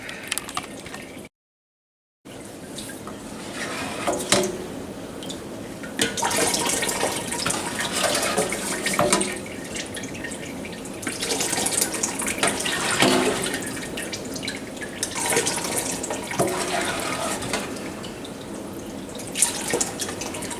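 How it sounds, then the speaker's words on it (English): Water runs steadily into a sink while a strainer is emptied, with irregular splashes and drips close by over a constant tap flow. There is a brief dropout near the start. "I gotta empty my strainer."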